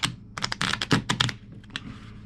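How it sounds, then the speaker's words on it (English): A deck of playing cards is shuffled up close before a poker hand, a rapid burst of crisp riffling clicks lasting about a second and a half, then settling into a few lighter taps. "Gotta shuffle the cards"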